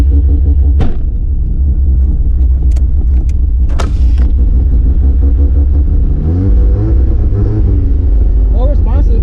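A turbocharged Mazda RX8 rotary engine rumbles steadily and loud on a test drive, with a few sharp revs and clicks early on and a rising rev near the end, while someone speaks.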